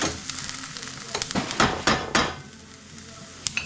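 Onions slow-frying in a pan, a steady close sizzle with several louder bursts of stirring and scraping, plus a couple of sharp utensil clinks near the end.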